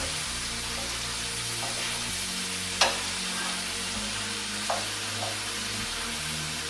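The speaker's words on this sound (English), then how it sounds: "give it a toss around, get some of that stuff in the bottom" Sliced onion rings sizzle in a jambalaya pot, a steady frying hiss with a couple of clanks and scrapes as they are tossed and stirred from the bottom.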